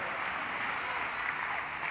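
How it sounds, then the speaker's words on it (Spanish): A church congregation at the Santiago en Llamas 2023 gathering applauds loudly, a dense, steady wash of clapping that holds without a break. "Le da ese aplauso fuerte."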